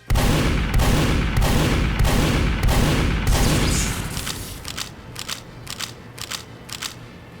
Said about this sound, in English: Scattergun is your best option, it's consistent and feels orgasmic to use. Just listen to it.